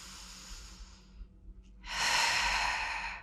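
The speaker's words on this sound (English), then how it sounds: "Inhale, exhale." A person breathes deliberately during a leg-day workout, taking a few short breaths and then one long, loud, close exhale, with no talking.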